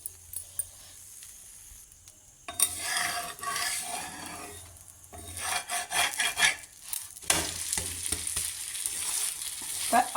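A Madurai kari dosa sizzles and crackles on a hot griddle, with bursts of scraping and stirring from a metal spatula that come and go against a faint low hum, and no voices.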